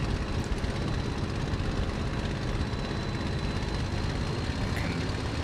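Propeller engine drone of a simulated Messerschmitt Bf 109 G-6 fighter climbing out just after takeoff in Microsoft Flight Simulator, a steady, loud, continuous roar with no voices.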